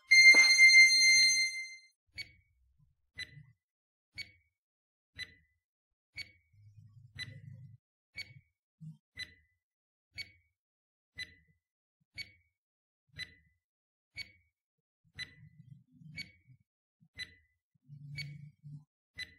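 A countdown timer ticking for 20 seconds, a faint, crisp tick about once per second in an otherwise quiet room, after a brief bright chime at the start.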